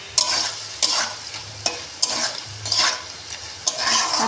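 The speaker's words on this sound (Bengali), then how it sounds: "কষিয়ে নেব চিংড়ি মাছটা।" Prawns coated in salt and turmeric stir-fried in a pan for an onion-paste prawn dish, with a steady sizzle broken by repeated scraping strokes of a spatula at an even rhythm, close up and without any voices.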